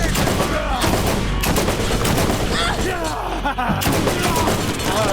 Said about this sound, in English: Oh, it's a burst weapon. I didn't even realize it was a burst weapon.